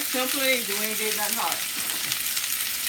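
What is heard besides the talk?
vegetables with celery sizzling while sautéing in a pan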